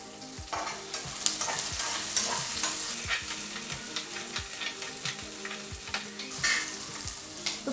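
Garlic sizzles in a pan while a spoon stirs it for Maharashtrian patwadi rassa, with a steady frying hiss and repeated scraping strokes, close and clear with no voices.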